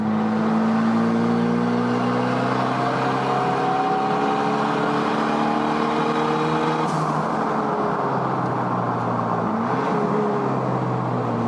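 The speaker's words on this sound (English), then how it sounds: "The car is supposed to have a lot more power in the upper rev ranges." A race car engine revs steadily at high pitch on a banked oval track at Little Talladega, rising and falling slightly as it accelerates, loud and close with a continuous whine.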